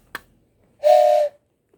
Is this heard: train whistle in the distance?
yes